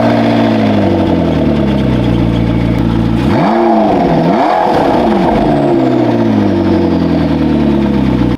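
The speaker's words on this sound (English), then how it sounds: "powered by a twin-turbo V8 that makes 592 horsepower. Just listen to the startup." A McLaren MP4-12C supercar's twin-turbo V8 engine fires up and settles into a loud, deep, steady idle with a quick rev-like swell midway, all close by with no voices.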